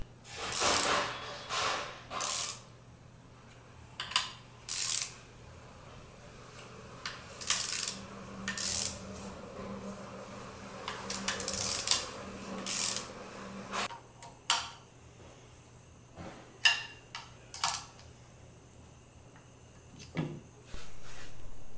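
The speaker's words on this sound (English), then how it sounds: "Use a ratchet with a 13mm socket and evenly insert the 3 bolts" A ratchet with a 13mm socket working bolts on an MWS pump case cover, giving bursts of rapid metallic clicking and clanks in irregular groups, close and fairly loud, with quieter tool handling between.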